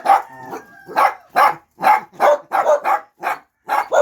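A dog barks repeatedly at close range, about ten sharp yappy barks in a quick irregular rhythm with brief pauses between them.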